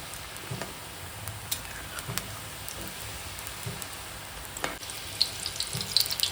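Kids' snacks deep-frying in oil on a medium flame until golden, a soft steady crackling bubble like light rain, with a few spoon clinks, quiet and close.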